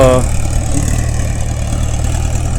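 A tractor engine runs in a paddy field, a loud, close, steady low diesel drone that holds evenly throughout.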